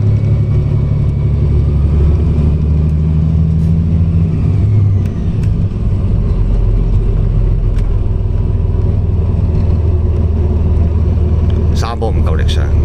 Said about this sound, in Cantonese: 揸住架大 CC 少少嘅私家車過嚟玩，